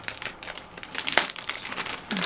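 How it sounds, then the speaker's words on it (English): A plastic bag is torn open by hand, giving a run of close, loud crinkling and ripping bursts that continue across the whole stretch with no voices. "I can't be bothered to get up to get them, so I'll just have to tear this"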